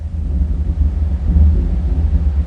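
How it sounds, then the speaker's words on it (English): Deep, sustained thunder-like rumble from a Rolling Thunder model train sound system paired with a Paragon 3 M1A HO locomotive, a loud, steady low roar that swells slightly midway with no speech. "Was that some weather? I think there's a storm coming."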